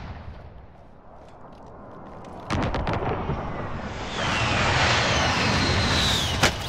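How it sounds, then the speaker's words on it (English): Precision airstrike explosions in a multiplayer shooter, with a sudden heavy blast followed by sustained loud rumbling and crackling that builds toward a final sharp burst. "Be advised, friendly precision airstrike inbound."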